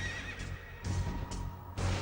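A horse neighs loudly and close, with a few strained whinnying bursts that come and go in quick succession.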